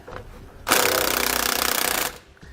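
A pneumatic impact wrench with a 9/16 socket spins end link nuts off an RV's front anti-sway bar, one loud rapid rattling burst of about a second and a half, close and alone.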